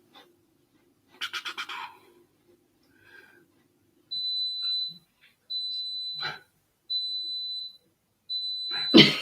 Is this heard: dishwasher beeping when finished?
yes